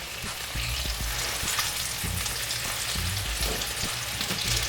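Burger patty and bacon frying together in a pan, a loud continuous sizzle and crackle with soft spatters, up close and steady throughout.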